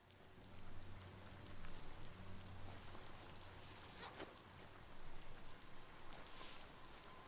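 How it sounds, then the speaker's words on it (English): Steady rain pattering in the video game Biomutant, a soft, even wash of drops on surfaces that swells and eases slightly, heard quietly and alone. "See, they did a good job with the rain effects."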